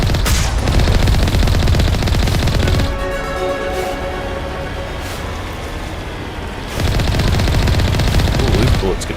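Loud, sustained automatic gunfire in the video game Mass Effect, dense bursts of shots rattling almost continuously, easing to a steadier softer stretch midway before the heavy firing returns.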